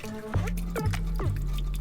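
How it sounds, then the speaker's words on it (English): Leftover pasta water is poured into a flour and butter roux for a macaroni casserole, producing a few soft liquid drips and splashes over a low hum. "And then we're going to go in with some pasta water, remaining pasta water"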